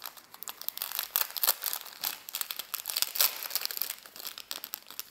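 Crisp, close crinkling and rustling of wrapping as 1920s vintage hat feathers from a hat shop clearance are unpacked, with irregular bursts of crackle over about five seconds and no talking.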